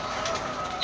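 Soft pigeon cooing in a continuous low murmur, close by, with a faint higher chirp near the end.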